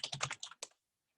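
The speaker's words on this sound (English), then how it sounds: "I can go ahead and type this out just to show this in" A quick burst of about eight close, crisp keystrokes on a computer keyboard, then silence.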